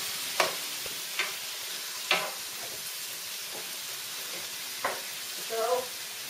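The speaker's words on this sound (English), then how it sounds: "So just continue to mix the beef and keep the temperature at high." Marinated beef and onions stir-fry over high heat for bibimbap, a low steady sizzle with a few spaced spatula scrapes and a short clatter near the end, quiet and close.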